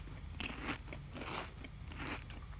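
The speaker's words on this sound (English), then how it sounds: "Those chewing sounds are just amazing." A survival game character chewing food in The Long Dark, a few close crunchy bites and chews at an irregular rhythm, quiet and heard alone.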